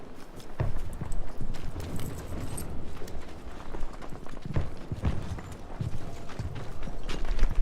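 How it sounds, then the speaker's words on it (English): Footsteps creep up from behind in the first-person shooter Battlefield V: irregular soft thuds and scuffs through a busy, steady wash of game noise, with no one talking. "gonna be able to pick up some footsteps that are creeping"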